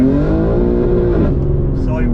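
An 820 bhp BMW G80 M3 engine roars loudly while accelerating, a dense steady drone with a sliding pitch shift partway through, close and heavy with someone talking over it.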